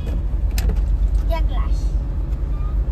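Road traffic near a fish market in Taloja: a steady, loud rumble of cars and buses close by, with brief higher mechanical squeals and tones over it and voices talking underneath.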